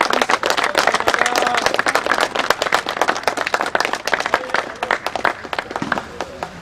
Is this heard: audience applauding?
yes